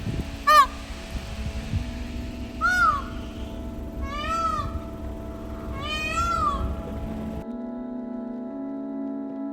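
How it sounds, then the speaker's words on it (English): Loud, wailing calls from peacocks at a breeding ground on Rhodes, Greece, with several rising-and-falling cries spread across the clip over a steady outdoor background hum. "there are all of these peacocks here"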